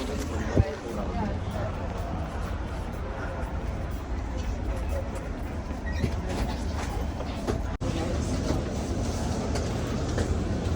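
A moving train rumbles steadily along the rails, heard from inside a passenger coach as a continuous dense roll with faint clicks, under background chatter.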